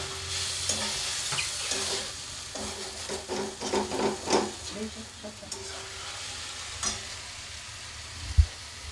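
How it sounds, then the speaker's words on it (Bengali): White pointed gourd pieces fry in an oiled pan, a close crackling sizzle with scraping stirs that swell in the middle and ease off, ending in a sharp utensil knock. "এই যে পটল দিয়ে দেওয়া হয়েছে,"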